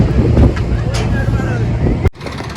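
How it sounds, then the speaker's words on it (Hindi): Strong wind buffets the microphone outdoors at a brick-laying site, a steady low roar throughout that cuts off abruptly near the end. "हवा चल रही है यार"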